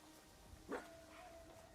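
A dog in Assassin's Creed Shadows gives one short, faint yelping bark midway through an otherwise quiet stretch.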